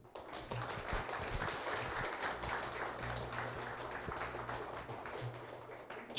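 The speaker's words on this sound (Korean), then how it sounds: "합격하신 모두에게 수고하셨다고 서로 심찬 박수를 보내주죠" Applause for successful loss-adjuster exam candidates at a gathering in a meeting room, a steady, dense round of many hands clapping that carries evenly for several seconds at a moderate distance.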